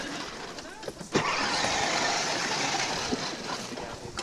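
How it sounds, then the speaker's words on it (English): A child's ride-on toy car, a Santa gift, drives along with a steady broadband motor whir, near and continuous, with a brief bump about a second in and voices talking over it. "go ahead, Barley, hit the gas"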